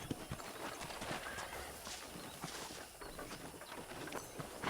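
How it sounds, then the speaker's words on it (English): Horse hooves clip-clop at a steady walking rhythm in the video game Red Dead Redemption on a ranch, with a brief whinny and faint ambient birds in the background. "let's see if you can still ride a horse."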